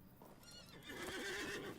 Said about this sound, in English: Get on the horse and make it quicker.